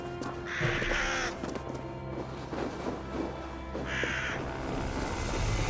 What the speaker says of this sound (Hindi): ये हमें बहुत सारे कौवे दिख रहे हैं।